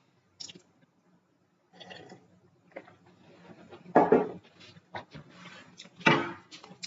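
Water is gulped in short wet bursts, with gulps, swallows and small clinks of a glass spaced unevenly and close up, and no one talks.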